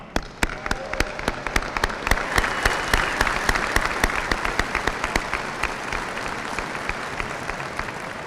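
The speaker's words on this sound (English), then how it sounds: "Let's give them a round of applause." A graduation ceremony audience applauds, a full, steady wash of clapping with a few sharp, distinct claps standing out close by.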